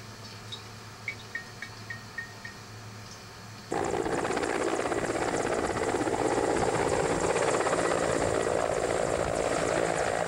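After a few faint bird chirps in the quiet surroundings of Uelen, a remote Chukotka village, a helicopter's loud, steady rotor drone abruptly takes over and continues.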